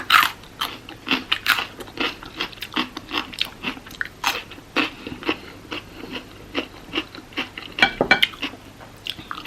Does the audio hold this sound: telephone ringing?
no